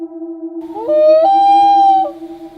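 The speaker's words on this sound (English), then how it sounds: "Next is the common loon." A common loon gives a wavering, tonal wail that rises and holds for over a second. It sounds clear and fairly loud over a steady low hum.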